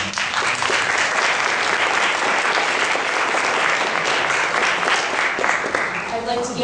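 An audience at a United Muslim Association of Toledo gathering claps steadily for a speaker, a dense, loud wash of applause that holds throughout and begins thinning near the end.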